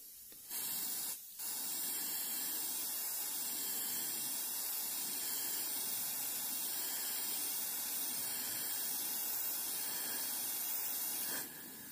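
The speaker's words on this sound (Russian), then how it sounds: "О, вот сейчас, да, распыляется." Fuel on a Yamaha Jog scooter sprays in a loud, steady atomizing hiss that starts after a brief pause, holds evenly for about ten seconds and then cuts off, with no talking.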